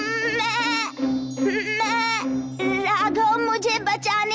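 A cartoon goat in an animated Hindi story gives a drawn-out, wavering bleat. It is loud and close, and a second shorter bleat follows it.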